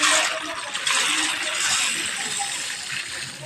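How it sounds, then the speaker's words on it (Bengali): Parboiled rice for biryani poured into a basin of water, a steady close granular rush and patter of grains hitting water that runs continuously and eases slightly toward the end. "এবার আমি এটা নামিয়ে জলের ভেতর ঢেলে দেব"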